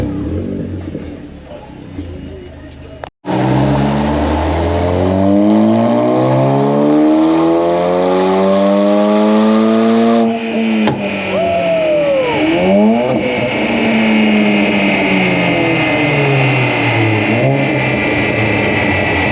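A VW Polo GTI revs hard on dyno rollers, loud and close, its engine note sweeping upward repeatedly through several climbing pulls after a brief quiet start.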